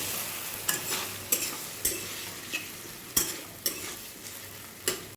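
Cumin, ginger, garlic, dried chili and onion pastes stir-fried in oil for a boneless chicken dish: a soft steady sizzle under repeated sharp scrapes and clacks of a spatula against the pan, roughly one every half second to second, close and fairly quiet.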